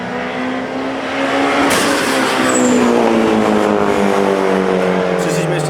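Japanese cars at a drag race event, engines droning and revving at a steady loud level with a rising pitch sweep mid-way, mixed with crowd and voices.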